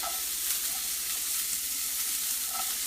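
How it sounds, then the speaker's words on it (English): Food sizzling in a saute pan, a steady soft crackling hiss that holds evenly throughout, close and fairly quiet, no talk. "Now if you hear that sizzle, that's the sizzle that you want."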